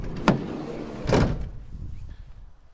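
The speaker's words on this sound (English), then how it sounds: "So we've got the side door, which again, always handy." The side door of a Vauxhall Vivaro van is worked up close: a sharp clunk of the latch, then a heavier rolling thud as the sliding door runs and shuts, followed by quiet.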